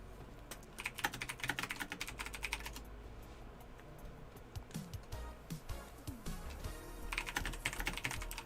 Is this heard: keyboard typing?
yes